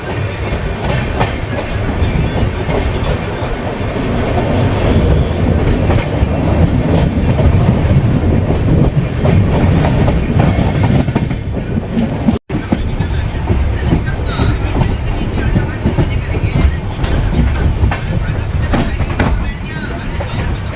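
From inside a sleeper coach, a passenger train rumbles loudly and continuously with rattling carriage noise and rhythmic clatter of wheels on track. A brief dropout cuts in midway before the roar carries on.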